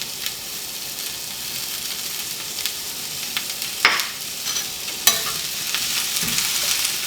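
Food sizzles in a pan with a little coconut oil and salt, a steady close crackle with occasional louder pops and stirring scrapes, continuing alone for about seven seconds.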